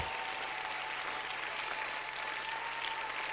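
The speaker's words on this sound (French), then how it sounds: "Applaudis très bien le Seigneur des Seigneurs. Applaudis le Roi des Rois." A church congregation applauds during a French-language service, a continuous even roar of many hands clapping at moderate distance, steady from start to finish with a faint sustained tone underneath and no voices on top.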